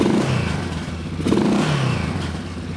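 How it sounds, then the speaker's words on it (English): A revived Yamaha Big Bear ATV engine runs steadily up close, a throbbing mid-pitched idle with mechanical rattles and clatter and a brief rise in revs partway through. "I'm gonna let her run for a couple of minutes"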